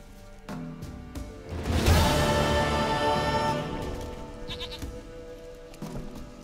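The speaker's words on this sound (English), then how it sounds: "Goat of mine, dearest, sweetest goat." Goat in The Witcher 3 bleating in one drawn-out, wavering cry that rises loudly then fades, set against quiet game ambience.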